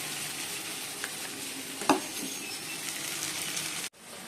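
Curry sautés in a pan for a Bengali home dinner, with a continuous soft sizzle and faint scrapes of stirring, one brief clatter midway, cutting off abruptly near the end.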